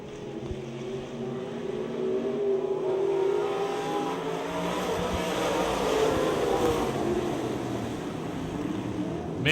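Race cars roar around the Speedzone track in a steady, loud engine drone with shifting pitch as they pass, a continuous rumble throughout.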